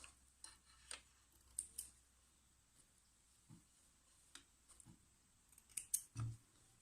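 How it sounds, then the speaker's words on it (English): Scissors snip sewing threads in a few quiet, sharp clicks scattered across a hushed room, with small handling noises between the cuts. "trim your threads"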